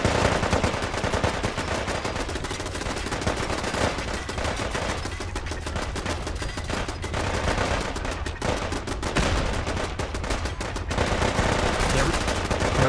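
Rapid, dense gunfire in the video game Fallout 4 keeps up for the whole stretch, with overlapping bursts and automatic fire at a steady, busy level.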